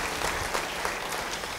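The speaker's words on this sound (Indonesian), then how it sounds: "Yang percaya beri tepuk tangan bagi dia." A church congregation bursts into brief, dense applause, many hands clapping at once in a loud, even wash that carries on steadily without a pause.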